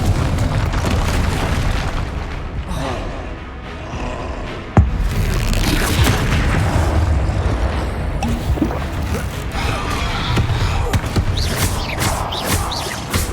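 A Confringo fire spell blasting in a video game, deep booming explosions with rumbling bursts and a sharp impact near the middle, loud and continuous throughout.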